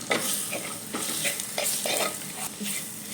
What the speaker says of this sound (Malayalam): ഇനി നമുക്ക് ശകലം തക്കാളിയും കൂടെ ഇട്ട് കൊടുത്ത് നല്ലപോലെ വഴറ്റാം